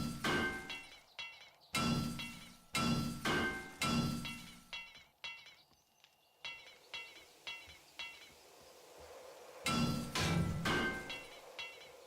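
Hammer blows in a video game ring out in a rapid series of sharp, loud impacts with a metallic clink, bunched in bursts with short pauses between them.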